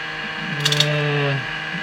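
Baseus C2 USB rechargeable desktop vacuum, close by: a few quick plastic clicks, then a short, thin, rising motor whine on its high speed setting that stops after about a second.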